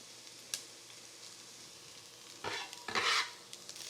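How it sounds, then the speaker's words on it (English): Carrots, garlic and other vegetables for tomato soup sizzle softly in a Dutch oven, with a couple of louder scraping stirs near the end rising over the steady frying hiss. "We're going to continue to sweat these out just a little bit more till those carrots get a little bit softer."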